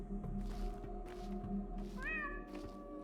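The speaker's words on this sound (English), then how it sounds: "if I hear a cat meow, I have to meow back" A cat meows in a video game set under some stairs, one short rising call against a steady tonal backdrop of game music and ambience.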